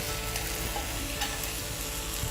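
Shiitake mushroom, chicken and green bean fried rice sizzling loudly in a hot pan while being stirred, a dense continuous frying hiss with scraping of the spatula, close and unbroken.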